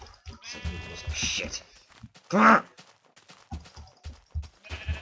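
Single sheep bleat in a survival island video game, brief and fairly close, with a man's scattered speech and game noises around it.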